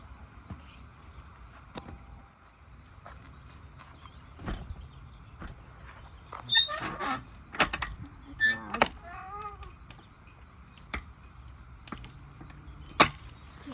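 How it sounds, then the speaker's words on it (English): A stable door is pulled shut and locked, with scattered creaks, clunks and metallic jangling of a latch or keys, fairly close in a quiet barn with faint background noise. "we're going to shut the door and lock it"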